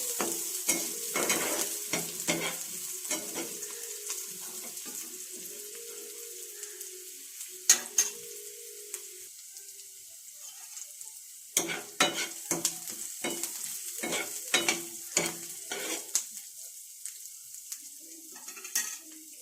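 Onions fry in a pan while being stirred, with steady sizzling and bursts of quick scraping and clattering strokes from the spatula. The stirring pauses briefly midway, then resumes loudly.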